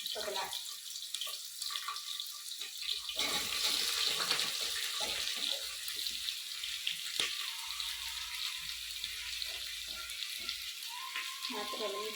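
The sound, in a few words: onion added to frying chili and garlic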